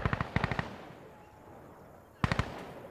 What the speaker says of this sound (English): Did you shoot at me, Nico?